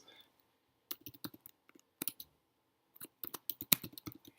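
Keys clack on a computer keyboard as an email address and password are typed, quiet scattered clicks in short bursts with pauses between them.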